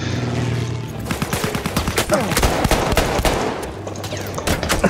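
Pistol gunfire in the World War I shooter Battlefield 1, a rapid string of sharp, loud shots cracking one after another with a few brief pauses, close and prominent over background game noise.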